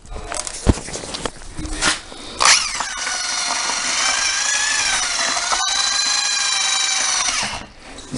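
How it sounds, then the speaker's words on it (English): A drill fitted with a mixing paddle stirs thinset mortar and water, starting with a few short bursts and then running steadily and loudly for several seconds before winding down. "you run the mixer through it again"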